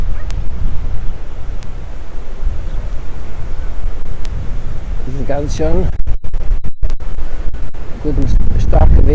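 Strong wind blowing by the Sea of Galilee on an evening walk, a steady rushing roar with wind buffeting the microphone throughout, under a voice speaking German.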